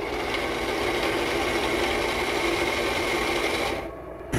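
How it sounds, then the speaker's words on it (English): Up close, a MioMat soy milk machine grinds soybeans with a constant buzzing motor whir and a gritty rattle that runs unbroken, then drops off sharply near the end before a brief restart. "That's the sound of the MioMat when it's grinding the soybeans."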